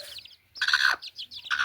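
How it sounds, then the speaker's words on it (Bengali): Chickens in a cage in a village yard, heard close as a series of short clucks and a longer squawking call in quick bursts, with no talking. "মুরগি আছে খাঁচার মধ্যে।"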